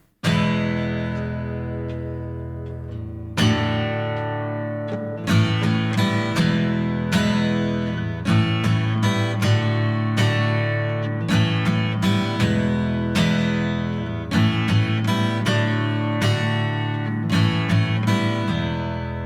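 A slow acoustic guitar passage playing a song intro, chords strummed and left ringing, each new chord entering after a pause, steady and close, no voices.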